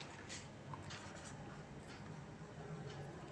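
A pen or pencil scratches softly on paper in a few brief strokes while a step of a Class 9 geometry proof about triangle angles is written out. A steady background hum continues throughout, and no one speaks.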